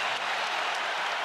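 A basketball arena crowd cheers and applauds in a loud, dense, continuous roar that holds steady throughout, with no voice over it.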